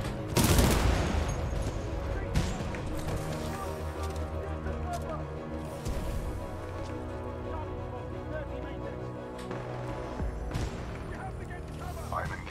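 Battle gunfire in the video game Titanfall 2, dense and continuous rattling bursts with a heavy blast near the start and sharp cracks throughout, partly under a talking voice.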